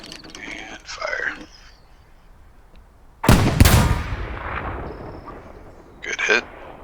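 A single loud anti-tank gun blast in Hell Let Loose, a sharp boom with a long rumbling decay, followed by a shorter, smaller report; a voice talks quietly before the shot.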